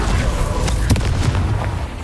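A Confringo spell explodes in Hogwarts Legacy with a loud, dense burst. Deep rumbling booms and crackling roll on through the whole moment, and a sharper blast peaks near the middle. No talk is heard.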